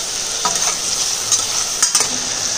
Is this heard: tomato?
yes